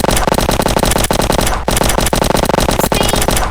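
Rapid automatic gunfire from a modded gun in the video game Prison Life, loud and continuous, with dense bursts and brief gaps, no speech.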